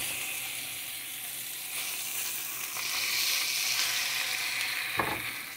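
Pork carnitas with chile frying in a pan, a constant close sizzle and crackle with light scraping and stirring as the meat is turned, one sharper clack near the end, no voices.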